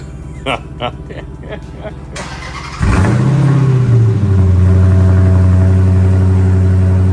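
A Dodge Challenger Scat Pack V8 muscle car engine fires up with a loud roar and settles into a deep, rumbling idle through its exhaust. Brief talking precedes the start.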